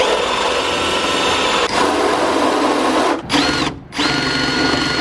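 Power drill boring into the trunk lid of a Honda Civic EJ6 Si while fitting a rear wing, a loud continuous whine up close with two brief pauses as the trigger is released.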